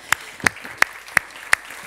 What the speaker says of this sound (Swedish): Du får en varm applåd.